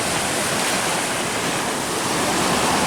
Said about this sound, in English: A much more calmer sea, crystal clear blue sea, glistening waves, shining in that glorious Mediterranean sun.